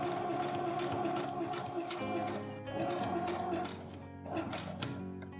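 A sewing machine running a straight stitch along fabric edges hums continuously and fairly close, with slight dips in speed and a short pause near the end, no talking over it.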